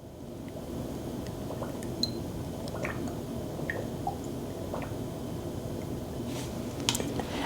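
Coconut oil being squeezed and poured for a homemade skincare blend, giving soft close-up squishes and faint drips over a quiet background hiss, with a few small clicks.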